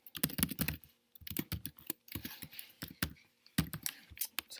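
Typing on a computer keyboard while entering order details, quick bursts of crisp key clicks with short pauses between runs, close and fairly quiet, with no voices.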